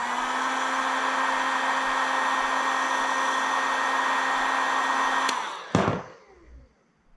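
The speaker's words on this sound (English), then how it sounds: "you're definitely also going to want to eventually get a heat gun" Heat gun blowing on a sticker to loosen its glue, a steady close whining hum that holds evenly, then switches off with a sharp click and a fading wind-down.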